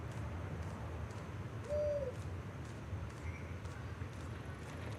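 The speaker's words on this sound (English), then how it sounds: "No, that was an owl." An owl in Zenless Zone Zero gives a single short hoot partway through, faint against a steady hum of background noise, with soft ticking sounds recurring throughout.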